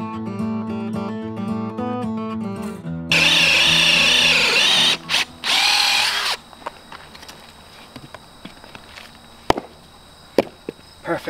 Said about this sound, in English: Here I drill one anchor hole.